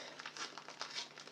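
Paper packet of baking yeast crinkling and rustling in the hands, continuous close crackle for about a second, no talk.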